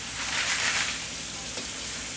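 Water pours and rinses over LECA expanded clay pebbles, a steady close hiss with a brief faint rattle, heard alone.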